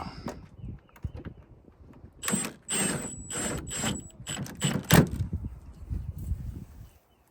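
Ratcheting clicks from a hand wrench tightening the door handle bolt on a 2006 Toyota 4Runner, quick rhythmic bursts of close mechanical clicking with short pauses between strokes, no talking.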